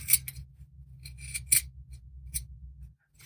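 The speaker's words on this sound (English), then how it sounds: "I want to trim like this so they're even." Scissors snip through tassel threads in several quick, close cuts, with short bright bursts spaced irregularly over a low steady hum.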